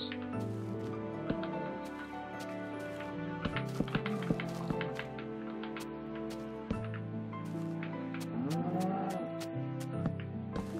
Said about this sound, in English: And why are there cows in here?